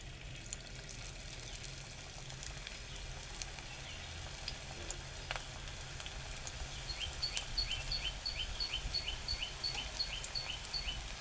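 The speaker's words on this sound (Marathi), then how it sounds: "आता हे जे मी 4 केलेत ते मी तुम्हाला तळून दाखवतो" Methi muthke fry in hot oil with a soft, continuous, fairly distant sizzle that stays low and even, with faint chirping in the background.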